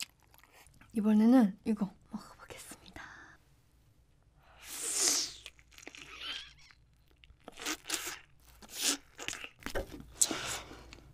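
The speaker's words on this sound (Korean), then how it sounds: "블랙 타이거 새우를 라면에 넣어서 이렇게 먹어보겠습니다" Someone eats black tiger shrimp with ramen noodles: close, wet chewing and crunchy bites in short bursts with pauses, near the microphone, with a bit of speech and a sigh early on.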